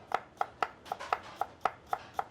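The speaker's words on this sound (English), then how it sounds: "Now I thinly slice it because I want to have pieces of ginger." A knife thinly slices peeled ginger on a cutting board, making about ten crisp, evenly spaced taps close by, with no voices.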